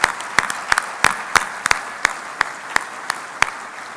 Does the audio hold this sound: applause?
yes